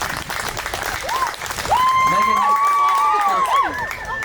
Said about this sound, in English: Big round of applause for Megan.